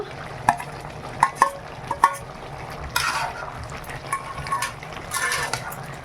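Chicken frying in a pan as ginger is added, a low steady sizzle punctuated by several sharp clinks of a spoon against the pan, then scraping stirring sounds, close and with no talking.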